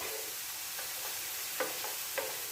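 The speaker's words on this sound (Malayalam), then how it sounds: "ഒന്ന് ഇളക്കി നോക്കാം" Sliced vegetables including okra frying in a pan on a home stove, with a steady faint sizzle and a few soft scraping stirs of a spoon, no talking.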